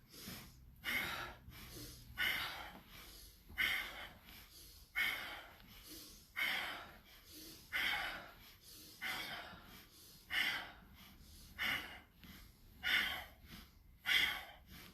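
Rhythmic yoga breathing during a practice session, with about a dozen alternating inhales and exhales spaced evenly, close and clear with no talk.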